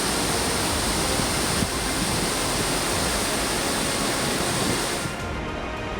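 Floodwater after heavy rain at Porbandar rushes over a submerged railway track, a loud, dense, continuous roar of flowing water, steady throughout and cutting off sharply at the end.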